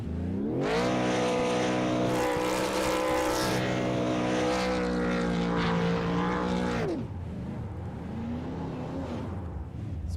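Super late model race cars roar past at full throttle on the Rockingham oval, a loud, dense engine howl that holds steady for several seconds, then drops in pitch as the pack passes and fades into a lighter, distant drone.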